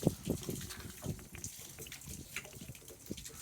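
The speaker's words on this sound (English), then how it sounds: "Fresh water is draining like crazy under there." Fresh water gushes and splashes steadily out of a Suburban RV water heater with the anode rod pulled, a close, irregular draining rush with no talk.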